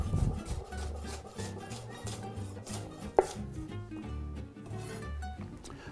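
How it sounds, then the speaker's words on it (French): A knife slices endives lengthwise on a cutting board in a close, steady series of soft chopping strokes, with one sharper knock midway. "on les émince dans la longueur"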